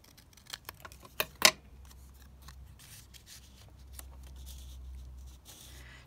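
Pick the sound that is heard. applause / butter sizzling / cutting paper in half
cutting paper in half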